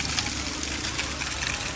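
Cold, clear water flows from a spring in Vietnam with a brief, close, steady gushing rush.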